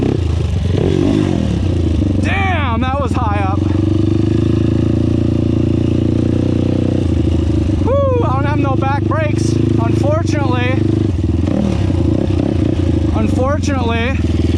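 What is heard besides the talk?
2005 Honda TRX450R ATV engine revving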